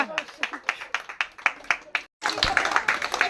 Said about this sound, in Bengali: সবাই তার জন্য একটি হাততালি হবে